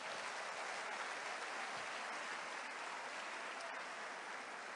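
Congregation applauding during a church sermon, a continuous even wash of clapping that sounds distant and fairly faint, with no talk over it.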